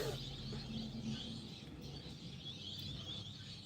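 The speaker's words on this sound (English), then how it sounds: "Listen to that bird song." Birdsong chirps faintly in the background, a thin, high, steady warbling over a low ambient rumble, with no clear voices.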